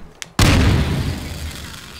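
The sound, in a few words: bomb explosions in video game Garry's Mod Melon Bomber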